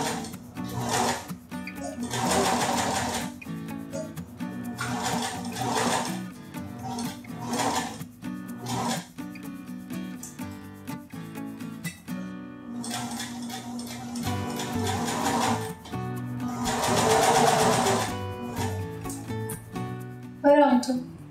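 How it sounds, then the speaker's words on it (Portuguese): A home sewing machine stitches fabric in several short whirring runs, with bursts at intervals and a longer stretch later on. A person talks throughout. "Depois é só continuar sua costura"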